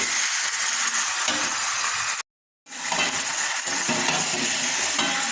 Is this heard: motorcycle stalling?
no